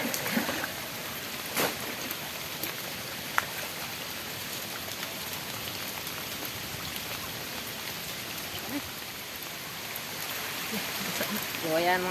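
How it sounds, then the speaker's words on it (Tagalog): Heavy rain pours down steadily for the whole stretch, a dense, even hiss of drops on surfaces with a few louder splats, while people talk faintly underneath. "Umuwi na kami mga kabuds kasi malakas na ang ulan"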